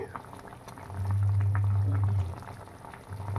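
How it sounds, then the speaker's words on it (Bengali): Folui fish curry made with chili paste boils in a pot, giving a steady close bubbling that swells loudly for over a second, eases off, then rises again. "মাছের ঝোলটা বেশ ফুটে উঠেছে।"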